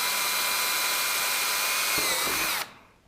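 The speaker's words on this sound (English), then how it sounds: "And then just drill through, and one more on the other side." A power drill bores holes through a cracked plastic motorcycle fairing with a loud, steady high whine close by. It runs for about two and a half seconds, with a couple of faint knocks near the end, then cuts off suddenly.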